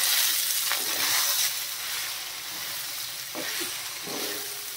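Mixed vegetables seasoned with kitchen king masala sizzle and fry in a pan, a steady close hiss broken by occasional stirring scrapes and taps, with no speech.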